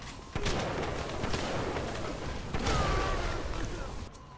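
Shotgun in BioShock firing exploding buckshot, a loud blast that rings out at the start, followed by crackling, booming bursts and a second heavy blast midway, all dense and close.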